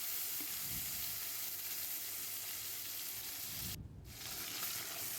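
Onion paste and green chili paste sizzle steadily in a pan of hot oil with bay leaves, dried chilies and whole garam masala, a dense close crackle that holds throughout with a brief dip near the end.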